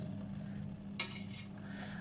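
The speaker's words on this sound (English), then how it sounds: "So I'm just going to flip them over and do the other side." A single quick clink of a utensil against a pot while boiling bagels are flipped, over a steady low simmering hum, with no voices.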